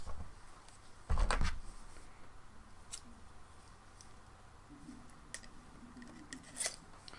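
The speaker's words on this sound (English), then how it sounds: "Scissor sharpener, very handy." Scissors are drawn through a handheld scissor sharpener that also works on utility knives, a sharp scraping swipe followed by a few fainter clicks and rasps in a quiet room.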